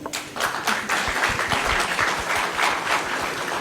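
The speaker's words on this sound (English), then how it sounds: "let's have a big round of applause for the house also" Audience at a business conference clapping, a dense burst of many hands applauding close and steady throughout the short stretch, with no talk over it.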